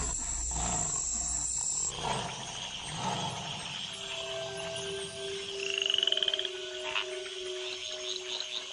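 Tree frogs calling after the rains, a chorus of croaks and trills with sustained tonal notes and a brief rapid pulsing burst midway, set against a dense background of wild nighttime calls.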